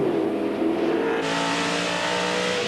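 TVR Tuscan race cars on a 1990 race track accelerate hard, their engines rising and shifting in pitch, loud and close throughout.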